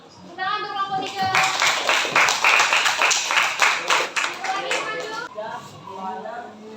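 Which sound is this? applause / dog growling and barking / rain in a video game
applause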